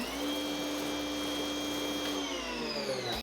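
Battery-powered EGO 3200 pressure washer running with a steady, loud motor and pump drone and hissing spray, holding constant before winding down and cutting off abruptly near the end.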